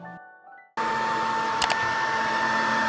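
A handheld hairdryer blows steadily and loudly, warming the inside of a ski boot liner to mold it, with a brief clatter partway through. Quiet humming comes before it switches on abruptly.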